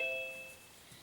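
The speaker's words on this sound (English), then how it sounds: "I heard the doorbell." A two-tone electronic chime rings once, clear and fairly close, its tones fading out over about a second with no voices.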